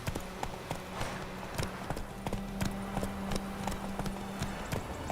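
Roach, Geralt's horse in The Witcher 3, trots with steady clip-clopping hoofbeats at a regular rhythm, close and clear, over a faint sustained tone.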